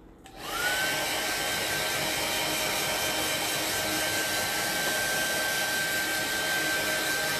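A hair dryer blows air to dry paint on a hand-painted salt shaker, spinning up quickly and then holding a steady, loud whooshing roar with a thin whine, close by and without talk.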